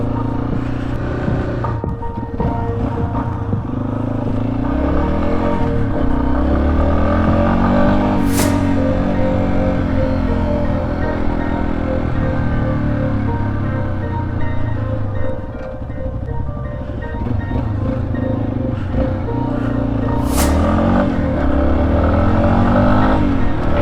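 Yamaha XT250 dual-sport motorcycle ridden off-road, its single engine droning steadily and loud throughout with shifting pitch as it accelerates and eases off, a couple of brief sharp rises in revs standing out.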